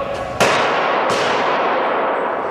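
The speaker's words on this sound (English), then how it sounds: "You can hear by his shotgun blasts, he was shooting at the police." Loud shotgun blasts fired at police during a shooting inside a shopping mall store, two sharp broadband reports about a second apart, each trailing off into a long reverberant wash.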